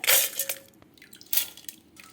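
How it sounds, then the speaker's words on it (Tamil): Soaked pearl millet, drained of its water, is tipped into a mixer jar: a few soft wet squishes and drips with short bursts of grainy rustle, fairly faint and close, with no voices. "இப்போ நம்ம ஊற வச்சுருக்கிறத தண்ணியை வடிய வச்சுட்டு நான் வந்து ஜாரில் சேர்த்துக்கிறேன்"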